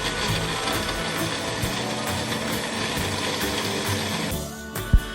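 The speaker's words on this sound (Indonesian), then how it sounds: "Setelah itu, kita blender semua bahan-bahannya." Electric blender grinding a laksa paste of shrimp paste, chilies, lemongrass, shallots, turmeric, galangal and lime leaves, a loud steady motor whir with rattling, ending in a short thump.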